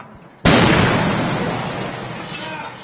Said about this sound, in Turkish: Büyük bir gürültü ve basınçla beraber patlama gerçekleştirildi.